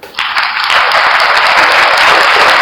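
An applause sound effect bursts in suddenly, a loud, dense wash of crowd clapping that swells within the first moment and holds steady at full strength.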